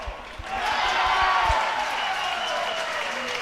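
A crowd applauding a knockout-round win at the European Para Table Tennis Championships, a swelling burst of steady clapping that holds then gradually fades, with a commentator talking over it and a few ball bounces at the start.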